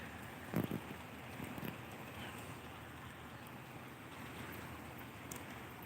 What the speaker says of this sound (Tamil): இப்போ கொஞ்சம் நல்ல மழை பெய்யுது